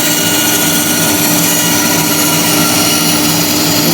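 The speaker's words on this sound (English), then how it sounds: "The noise is elevated just a little bit because the back of the blade is just rubbing on the cut." Loud steady whirring of a bandsaw cutting curves in wood, the back of the blade rubbing in the kerf and raising the pitch slightly, a continuous broadband machine drone with no talking.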